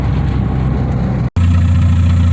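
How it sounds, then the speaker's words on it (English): A 2001 Hyundai Tiburon engine runs at a steady idle, close and loud, with a low even drone that cuts out for a split second before resuming. "This engine seems to be running pretty good."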